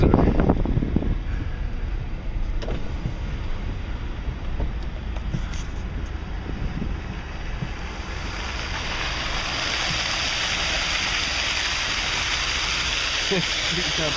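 A new fountain in a mall parking lot gushing water like a geyser during rain, a continuous loud rushing roar that grows fuller toward the end, with a person speaking early on.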